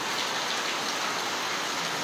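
Heavy monsoon-style rain pours steadily in a dense, even hiss, loud and close throughout, with no thunder or voices.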